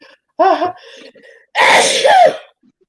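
A single loud sneeze from someone with hay fever, preceded by a short sharp intake of breath and a brief vocal wind-up, close to the microphone.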